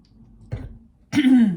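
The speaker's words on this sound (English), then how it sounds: "Just trying to clear my throat." A single throat clearing, a brief low rasp followed by a louder, rougher burst, close and alone in a quiet room.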